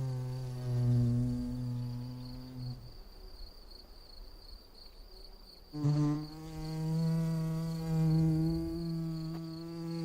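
A wild bee buzzes close by in a steady droning hum, cutting out for a few seconds before resuming just as loud, heard alone without any talking.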